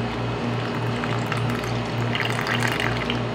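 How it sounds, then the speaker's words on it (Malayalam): Milk being poured into a bowl of custard powder mix for fruit custard, making a steady, continuous splashing stream without pauses. "എടുത്ത പാല് ഞാനിപ്പോൾ ഇതിലേക്ക് ഒഴിക്കുകയാണ്"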